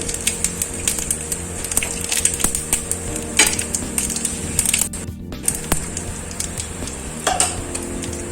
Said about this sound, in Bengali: দুটো তেজপাতা, সামান্য একটু গোটা জিরে ফোড়ন দিলাম।